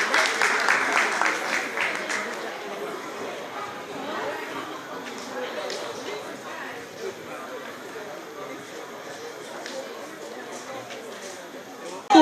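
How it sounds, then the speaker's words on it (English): An audience applauds as children come in at a youth event, a steady wash of clapping that is strongest at the start and stays at moderate level with chatter and movement beneath it. "give them a round of applause as they come on in"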